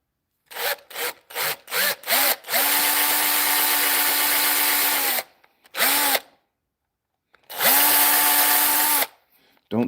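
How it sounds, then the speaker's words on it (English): A slow electric drill whirs in short bursts, then runs in longer steady stretches as it bores into wood, close up with pauses between. "I'm not using my fast drill, I'm using my slow drill."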